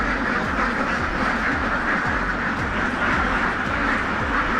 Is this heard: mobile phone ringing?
no